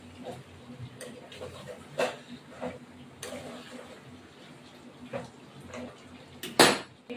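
Potatoes added to chicken in a pan on a home stove for Bengali-style chicken kosha, with occasional utensil clinks and scrapes over a low sizzling background and a sharper clatter near the end.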